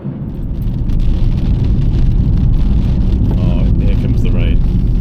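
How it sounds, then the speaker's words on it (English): Rain begins falling outdoors in heavy weather as a child is collected for the car, a loud broadband wash that swells in the first second and then holds steady, with faint voices and distant traffic underneath. "Oh, here comes the rain."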